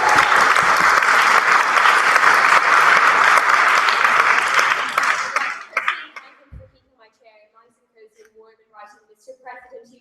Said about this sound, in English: give our registrar, Keith Ryder, a massive round of applause for tonight's debate.